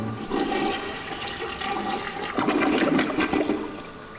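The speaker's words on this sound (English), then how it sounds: "you have to flush the toilet, which sounds awesome." A toilet flushes in the Call of Duty Zombies map Asylum Verrückt, a close, loud rushing gurgle of water that surges and swirls for a few seconds, with no talk over it.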